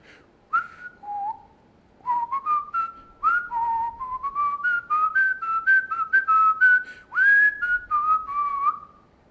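A person whistles a song's hook, a clear solo melody of short repeated phrases with small pauses between them, close and unaccompanied.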